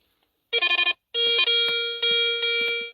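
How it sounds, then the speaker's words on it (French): A handheld metal detector, swept by volunteers searching a rock crevice, gives a short burst of rapid electronic beeps, then sustained loud tones in three long pulses, clear against near silence. "Je vais passer un coup de détecteur vite fait."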